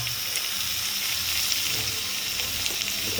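Tomatoes and spices hit a hot pan and fry with a continuous, even sizzle, close and fairly loud, with no voices.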